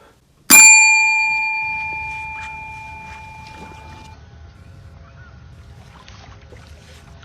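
A single bright bell strike rings out once, sharp and loud, then decays with a long sustained tone over several seconds, with quiet background rumble and no talking.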